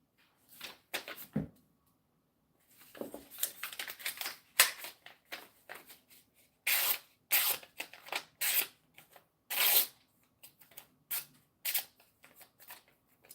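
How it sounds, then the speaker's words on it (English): A knife slicing through paper, giving a series of short crisp rasping cuts and rustles in irregular bursts, some quick and clustered, others spaced apart, close and fairly quiet. "We just like to show off knives, cut some paper."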